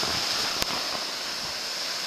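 Steady surf washes at Praia Brava da Almada, a beach in Serra do Mar State Park near Ubatuba, a soft continuous ocean hiss with one brief thump.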